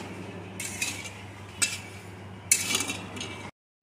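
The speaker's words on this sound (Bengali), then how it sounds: "এইভাবে নাড়িয়ে নাড়িয়ে চিনির শিরাটি তৈরি করে নেব" A spoon stirring sugar and water into syrup in a metal pan makes three or four scraping, clinking strokes against a low steady background hum, then cuts to silence.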